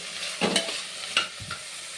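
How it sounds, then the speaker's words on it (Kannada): Vegetables and sweet corn are stirred in hot tempering for sweet corn pulao, giving a few quick scraping strokes over a soft, continuous sizzle. "ಇಷ್ಟು ಹಾಕ್ಕೊಂಡು ನಾವು ಫ್ರೈ ಮಾಡಬೇಕು"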